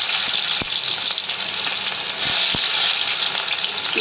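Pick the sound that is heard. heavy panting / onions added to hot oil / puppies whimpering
onions added to hot oil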